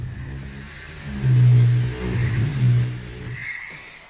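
Mercedes-Benz SL600 V12 engine revving with the hood removed, a deep rumbling rise in throttle building to loud sustained peaks, easing off briefly, then surging again before settling.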